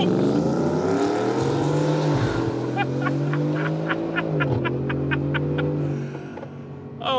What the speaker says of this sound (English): you nail the throttle and you just light those rear tires up